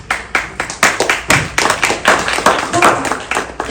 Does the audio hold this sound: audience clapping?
yes